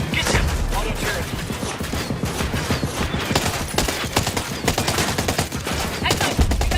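Sustained automatic turret gunfire in the Ghost Recon Breakpoint video game, a dense, continuous rattle of rapid shots with loud bursts throughout, close and heavy, with no talk over it.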